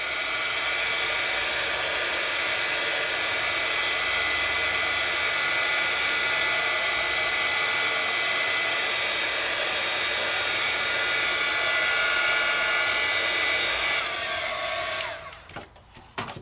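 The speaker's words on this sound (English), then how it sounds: "My heat tool, you can let it sit and dry, but I need it to be dry." A heat tool blows a steady, loud, high-pitched whirring stream of hot air over freshly applied marker ink for about fifteen seconds, then cuts off, leaving a few soft handling clicks.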